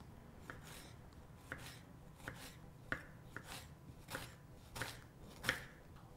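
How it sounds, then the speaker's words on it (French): A knife finely slicing a peeled vegetable, the top trimmed off, before lamb shoulder cooking; soft, faint, evenly spaced cuts tapping a board about once per half second, with no voices. "Je retire la tête, puis j'émince"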